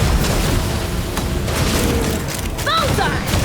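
Cannon fire in the Genshin Impact game booms out in heavy, rumbling blasts under a dense battle mix, with bright magical whooshes rising near the end.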